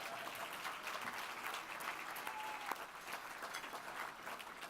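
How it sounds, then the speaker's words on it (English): A conference audience at the Just Economy Conference claps in a sustained round of applause, steady and fairly distant, with no speech over it. "that deserves another round of applause"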